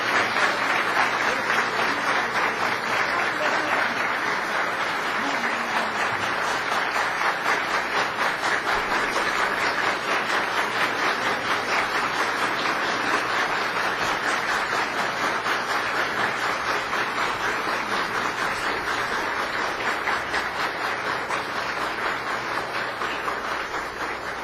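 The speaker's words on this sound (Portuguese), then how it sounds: "Y lo recibimos con un fuerte aplauso." Strong, sustained applause from a gathering of church ministers fills the room, a dense, even wash of clapping holding steady for over twenty seconds without talk.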